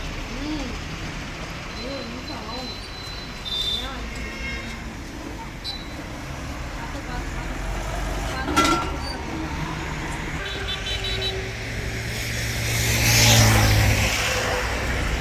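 A bus bound for Tambaram rolls along a road near the large lake at Madurantakam, its engine rumble swelling as it draws close and passes, over steady traffic noise, with voices talking nearby.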